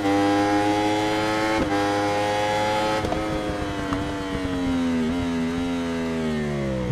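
A Yamaha R1M superbike races around the Donington circuit in RIDE 3, its engine note loud and continuous, rising through the revs with short gear-change breaks and a drop in pitch as it slows for a corner.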